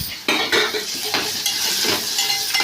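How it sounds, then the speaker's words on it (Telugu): Potato pieces tipped into a frying pan with chilli, cumin, mustard seeds and curry leaves, a sudden rush of sizzling followed by steady frying and scraping stirs with a utensil against the pan, close and loud. "ఇప్పుడు పొటాటో ఫ్రై ముక్కలు వేసుకుంటున్నాం"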